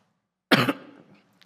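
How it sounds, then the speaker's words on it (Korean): A pastor coughs during a Wednesday church service sermon in Daegu: one short, harsh, close cough burst followed by a faint trailing breath and a tiny click in otherwise quiet surroundings. "기침이 계속돼서 죄송한데 좀 이해해 주시기를 바랍니다"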